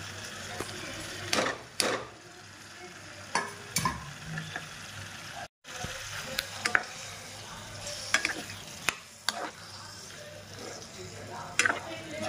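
Prawns tipped into a pan of masala, giving a steady frying sizzle with scraping stirs and clinks of a spoon against the pan, close and continuous.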